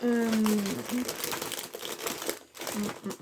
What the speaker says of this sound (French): c'est un papier qu'il va falloir que je plie